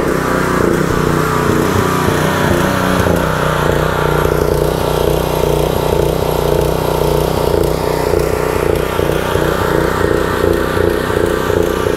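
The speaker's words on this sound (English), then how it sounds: "you can hear it sputter, and it may take up to about a minute and a half, 2 minutes to run all the gas out" The small gasoline engine of a pressure washer runs loud and close as it uses up the last of its gas, with a constant droning hum throughout and no voices.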